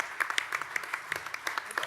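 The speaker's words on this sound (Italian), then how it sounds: "vi chiederei di fargli un applauso" Applause from a small audience at a political gathering for a candidate seated in the front row, quiet and thin, with scattered individual claps rather than a full roar.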